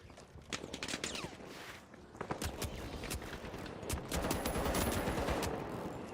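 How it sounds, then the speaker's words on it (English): Dense, continuous automatic gunfire and scattered shots fill a video game firefight, loud and close with rapid bursts overlapping throughout. "Who the fuck is shooting me from behind?"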